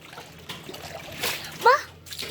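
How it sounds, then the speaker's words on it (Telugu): Water splashes in a couple of quick bursts close by while a voice calls out over it. "మేమైతే లక్ష్మణ్ మీద నీళ్ళు ఇసిరైపోతున్నా."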